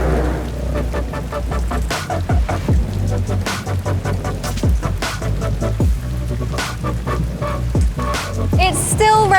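Steady rain falling outside the esports arena at the Hockenheimring, a dense continuous patter on surfaces that stays loud and even throughout, with no talking.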